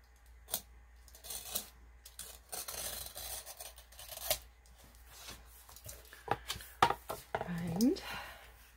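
A blade slices through the text block of a book being cut out for a junk journal, giving faint scraping and snipping sounds with sharp clicks and rustles, all under soft talk.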